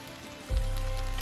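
Sautéed vegetables hit a hot pan for veggie lo mein, starting a sudden low sizzle and hiss that carries on steadily after a quiet moment.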